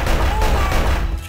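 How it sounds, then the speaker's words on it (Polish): Gunfire from the World War II shooter Elite Forces: WWII Normandy, a dense, sustained burst of shots and battle noise lasting about a second, loud and steady throughout. "To tu do mnie strzela."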